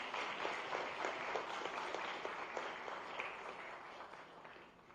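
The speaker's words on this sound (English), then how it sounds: "Please give them a round of applause." Sustained applause from a crowd at a formal event in Gandhinagar, India, steady dense clapping for several seconds that gradually thins toward the end.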